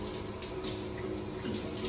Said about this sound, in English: So, we're gonna pop the cold shower.